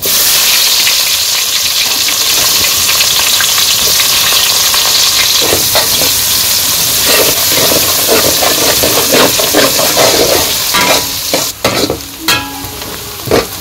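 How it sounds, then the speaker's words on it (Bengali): Chopped onions fry with cumin in hot oil in a large pan during outdoor village cooking, a loud continuous roaring sizzle with scraping stirring clatters near the end. "এই যে পেঁয়াজগুলো দিয়ে তো ভাজা ভাজা করে নিচ্ছি।"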